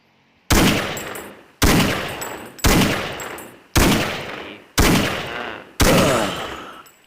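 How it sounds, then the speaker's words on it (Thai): Six heavy gunshots ring out one at a time at a steady pace in Counter-Strike, fired at bots, each loud and close with a short decaying tail and no voices. "เราจะมาทดสอบกันว่า ยิงกี่นัดบอทถึงจะตายนะครับ"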